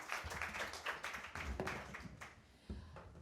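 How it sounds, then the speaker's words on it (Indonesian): Scattered applause from an audience at a regional final round of a high school quiz competition in Jakarta, uneven clapping that thins out and fades with a few sharp taps. "tepuk tangan Bapak Ibu"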